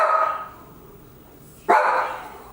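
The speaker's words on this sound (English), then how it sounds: "when it rains here, all hell breaks loose because Max gets nervous and he starts barking" A nervous dog named Max barks twice indoors during rain, two loud, close, separate barks with a short quiet gap between them.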